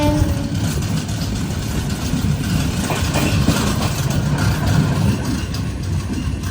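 Loud, close rumble and clatter of the Jamnagar–Tirunelveli Express pulling into Alappuzha railway station, heard from aboard in sleeper class, with steady wheel and carriage noise throughout and an engine drone underneath.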